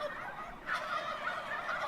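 A flock of turkeys gobbling as they move along in a parade. Several overlapping warbling gobbles come close and fairly loud in a short, continuous chorus, with no speech.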